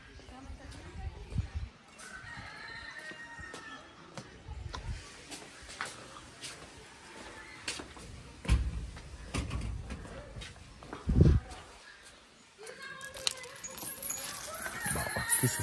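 Chickens and other birds cluck and call in a large walk-in aviary at Nandanvan Zoo, Raipur. The birds sound moderately near amid rustling and clanking, with people talking throughout.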